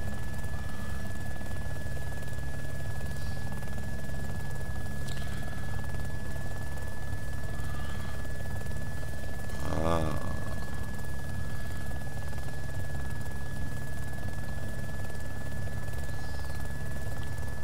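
Steady, loud helicopter rotor drone from the video game DayZ fills the whole stretch without break, a continuous flying hum with a faint high whine and no talk.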